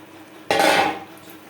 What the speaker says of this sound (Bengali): মশলার সাথে দু তিন মিনিট পেঁয়াজ নাড়াচাড়া করে নেওয়ার পর দিয়ে দেবো ক্যাপসিকাম